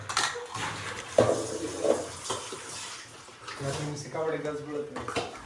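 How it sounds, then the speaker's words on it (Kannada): Water runs and splashes steadily while raw chicken is washed for a Sunday chicken curry, with people talking over it throughout. "ಚಿಕನ್ ವಾಶ್ ಮಾಡಿ ಕೊಡ್ತಾ ಇದ್ದಾರೆ."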